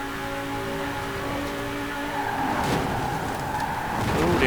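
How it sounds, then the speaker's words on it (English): A 1995 BMW M5 engine howls at very high speed on a motorway in Forza Horizon 4, a steady loud drone with some tire scrub that rises toward the end. "270 mile an hour in a 26-year-old BMW M5 is not half bad whatsoever"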